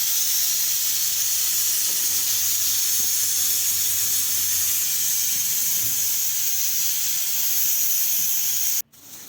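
A pressure cooker vents steam while cooking collard greens (sabz haakh), giving a loud, steady hiss that runs almost the whole time before cutting off abruptly near the end.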